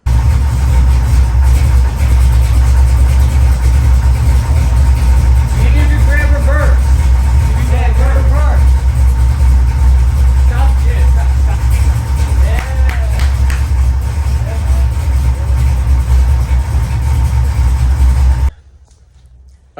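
A 1965 Pontiac GTO engine runs on jack stands in a shop, a loud steady low rumble throughout with people talking over it, before it cuts off abruptly near the end.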